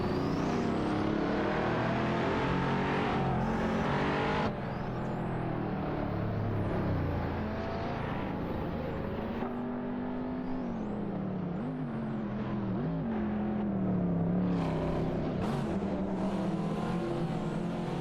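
Race cars in a video game, including a BMW and a Ferrari Portofino, fill the track with a steady layered engine drone. Motors whir and rise in pitch as the cars jostle closely, and no voices come through.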